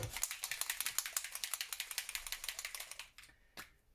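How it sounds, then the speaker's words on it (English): Rapid repeated spritzing from a spray bottle, a quick series of sharp hissing pumps that then slows and stops with a couple of final sprays. "Let's give this a good spray."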